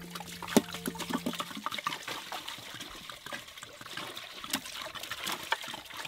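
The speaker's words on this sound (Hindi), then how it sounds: "उससे पानी डालेंगे।" Water poured over cut potatoes being prepared for aloo samosa outdoors, a faint steady trickle and splash lasting several seconds with no voices.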